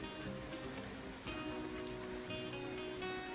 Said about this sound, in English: It is raining like crazy over here.